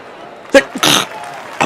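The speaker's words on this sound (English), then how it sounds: "Oh damn, that was a sneeze." One sharp, loud sneeze bursts out close to the microphone, preceded by a brief intake and followed by a short throat noise, over a quiet room.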